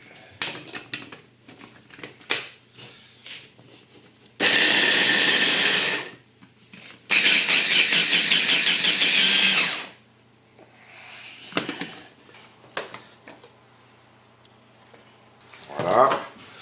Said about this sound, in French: Alors là je fais avec le robot, ça va aller plus vite.